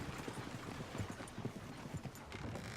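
Steady clip-clop of horse hooves in Red Dead Redemption 2, in a quick, even rhythm over a low ambient rumble, moderately close and fairly quiet.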